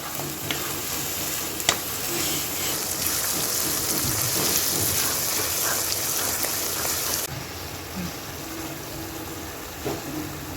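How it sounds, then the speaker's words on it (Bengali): Salted hilsa fish curry fries in a pan with a dense, loud sizzle and crackle, joined by occasional stirring scrapes. The sizzle drops noticeably softer for the last few seconds. "দেখেন ভাজতে কত সুন্দর একটা রং চলে আসছে"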